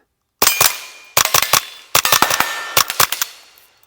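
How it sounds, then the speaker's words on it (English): A Fletcher 11/22 rifle fed from 10-round magazines fires four quick strings of sharp, loud cracks, roughly fourteen shots in all, each burst separated by brief pauses. "Let's do some shooting."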